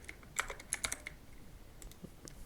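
Computer keyboard keys tapped in quick uneven bursts, close and fairly quiet, a few clustered clicks followed by scattered single presses, no talking.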